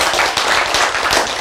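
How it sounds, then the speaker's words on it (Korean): Audience applause at a Korean health lecture, a dense run of clapping that fills the short stretch evenly, loud and close with no pauses. "박수!"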